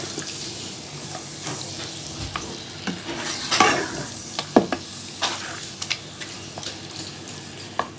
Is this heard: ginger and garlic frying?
yes